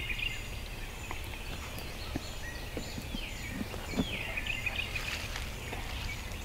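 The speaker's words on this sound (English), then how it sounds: "I think the turkeys are back here." Wild turkeys gobble in springtime woods beside a field, a distant, faint, rattling call or two rising over a quiet outdoor hush.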